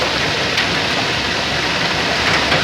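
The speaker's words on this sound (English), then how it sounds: "That's so much hail, it looks like it's snowing." Dense hail pelts down outdoors in a steady, unbroken rattling hiss, heavy and close throughout with no letup and no voices.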